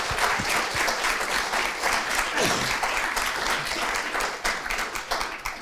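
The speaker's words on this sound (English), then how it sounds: "Let's give Sarah another round of applause, please." An audience at a museum evening talk gives loud, sustained applause for the speaker, with dense clapping that fills the whole stretch and fades slightly at the end.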